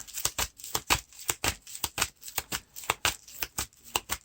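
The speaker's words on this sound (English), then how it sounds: "Shuffle the encounter deck." A deck of cards for The Lord of the Rings living card game is shuffled by hand in a steady run of crisp, rapid riffling bursts, close up and alone, with no talking.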